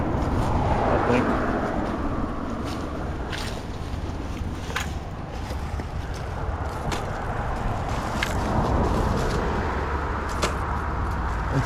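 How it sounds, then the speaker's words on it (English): A car or motorcycle engine backfires repeatedly in the distance, sharp irregular pops spread out over steady outdoor background noise during a walk, with a brief spoken remark. "Somebody's car is backfiring really bad. Or now it's a motorcycle,"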